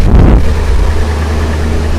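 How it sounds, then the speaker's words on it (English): A car engine with a leaking exhaust manifold idles steadily up close, a continuous low rumble with a faint tick underneath and no talking. "we can hear a little bit of an exhaust tick"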